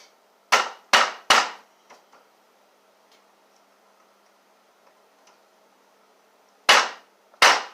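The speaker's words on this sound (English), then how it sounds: "I'm gonna hammer this in to set it." Sharp hammer blows on recycled pallet wood: three quick strikes in a row, a long quiet pause, then two more strikes, loud and close.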